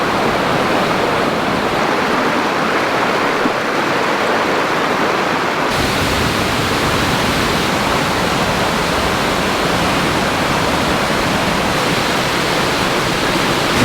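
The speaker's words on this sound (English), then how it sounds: "big waterfall all coming down the cliff there" A big waterfall pours down a cliff in a continuous, full roaring wash of falling water that grows louder partway through, with no voices.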